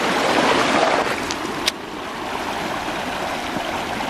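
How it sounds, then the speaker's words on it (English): Steady broadband rush of a waterfall in Iceland, even and continuous with a brief sharp knock partway through, no voices over it. "Making it to the waterfall now."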